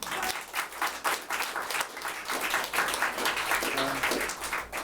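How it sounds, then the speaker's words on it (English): An audience at a musical theatre festival gives a round of applause, a continuous dense clapping that holds steady throughout, with faint voices underneath. "let's give them a round of applause anyway."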